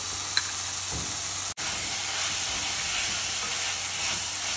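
Green chillies and ginger garlic paste fry in hot oil, a steady, close hiss of sizzling with a short thump near the start and a momentary dropout midway.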